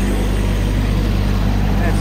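Small diesel engine of a mini backhoe (compact excavator) idling steadily close by, a low continuous rumble throughout at a construction site, with a person speaking over it.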